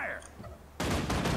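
Firing squad volley in Guild Wars 2, a sudden loud burst of overlapping gunshots with rapid crackling reports after a brief quieter stretch with faint voice sounds.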